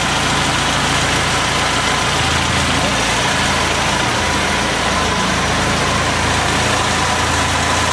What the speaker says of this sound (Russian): двигатель поставили, завели. Все работает.